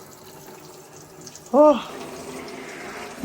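Tap water runs steadily in the background while drain pipes are flushed out, a faint continuous wash under a brief spoken exclamation midway.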